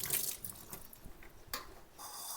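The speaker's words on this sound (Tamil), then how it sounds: "இப்படி இந்த சேம்பு இப்போ க்ளீன் பண்ணுறேன். இப்படி தான் க்ளீன் பண்ணணும், வாஷ் பண்ணணும்." Running tap water splashes over taro root as it is rinsed and rubbed clean in a kitchen, a steady close wash with brief bursts and drips.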